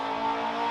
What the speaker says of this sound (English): There's that dyno pull again.